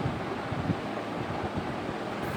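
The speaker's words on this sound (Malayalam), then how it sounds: "ഹുങ്കാര ശബ്ദത്തോടുകൂടി വീശിയടിക്കുന്ന കാറ്റും" Howling wind sweeps through a stormy night with pouring rain. It makes a steady, loud, rushing roar that fills the whole stretch without a break.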